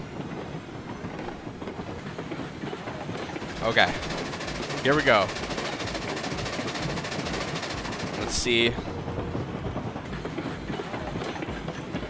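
A train running in the RailRoads Online game makes a steady, rattling rumble with rhythmic wheel clatter throughout, while someone talks briefly over it and a few short squeals cut through.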